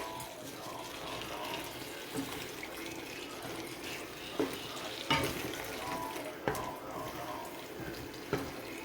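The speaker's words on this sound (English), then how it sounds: "then I'm going to add the cornstarch paste which I made. Just going to mix it a little bit." Cornstarch paste being stirred into sauce and tofu in a pan, a quiet bubbling sizzle with intermittent spatula scrapes and taps against the pan.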